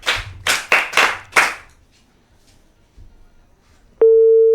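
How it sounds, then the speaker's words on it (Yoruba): An audience at a Yoruba children's programme claps for a child in a short burst of about five loud waves of clapping that fade into quiet, followed by a steady electronic tone. "Gbọ́lágadé Oníkàhùn ẹ pàtẹ́wọ́ fọmọ yé o."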